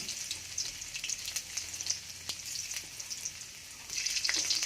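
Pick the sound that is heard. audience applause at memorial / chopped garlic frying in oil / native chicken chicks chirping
chopped garlic frying in oil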